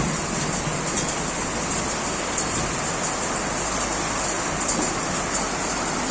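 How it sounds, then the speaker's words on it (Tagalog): Heavy rain pouring down steadily outdoors, a dense continuous hiss of drops on surfaces, loud and even throughout with no voices. "Ay, nako, maulan."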